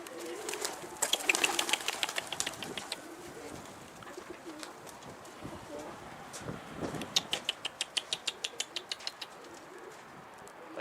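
Pigeons cooing and flapping close by, with bursts of wing claps and a rapid run of sharp clicking flutters later on, moderately loud against a quiet outdoor background.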